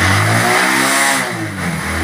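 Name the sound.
Hero Honda CD Deluxe 2011 motorcycle engine revving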